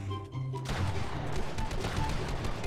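A shotgun blast rings out in a Fortnite boxfight match played on Nintendo Switch. One sharp shot is followed by crackling, clattering impacts that stay loud and close.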